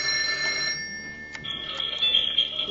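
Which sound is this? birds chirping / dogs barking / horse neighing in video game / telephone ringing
telephone ringing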